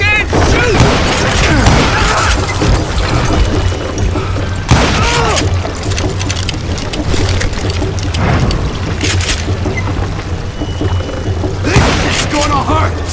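Dynamite explosions in the Wild West shooter Call of Juarez Gunslinger go off as repeated heavy booms mixed with gunfire, spread unevenly across the scene while a character's voice shouts over the blasts.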